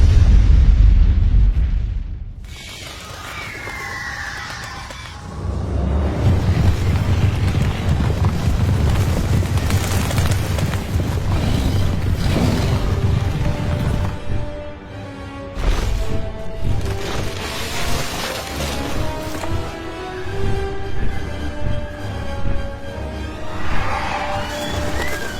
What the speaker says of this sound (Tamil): அந்த எரிமலை இப்ப வெடிக்க போகுது.